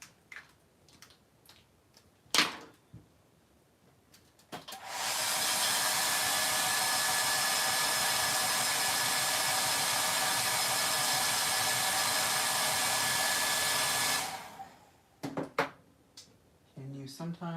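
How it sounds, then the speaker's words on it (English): A blow dryer runs loud and steady for about nine seconds, a continuous broad rushing roar, with brief clicks and scattered handling noises before and after it. "blow dryer's coming again"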